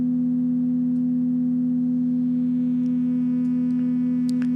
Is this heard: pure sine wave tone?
yes